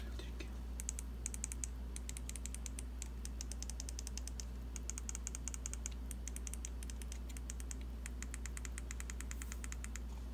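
Side buttons on a Razer Naga Trinity gaming mouse clicked in quick rapid runs of small crisp ticks, close but faint over a steady low hum, with pauses between the runs.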